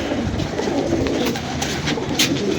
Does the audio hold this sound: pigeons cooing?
yes